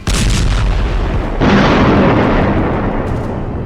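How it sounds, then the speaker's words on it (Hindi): Bombs dropped by Israeli forces exploding over Gaza during the Israel–Hamas war: a heavy booming blast erupts with rumbling debris and a second deep surge that swells and then slowly fades. "जिस वक्त गाजा की गली गली में इजरायल के बम गिर रहे हैं"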